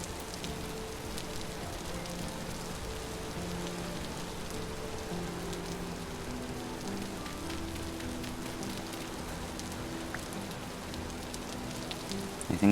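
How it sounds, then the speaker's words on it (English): Steady rain falls in the survival video game Vintage Story, a constant close hiss of drops on surfaces that holds even for over twelve seconds, with no voices. "Not really liking the rain too much out there."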